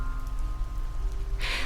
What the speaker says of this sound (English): It's cold and gray outside, and it's been raining for a while.